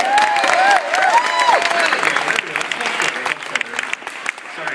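An audience claps at a live game presentation, with a dense, steady patter of hands close by that thins out and softens toward the end, plus a few thin whistle-like tones early on.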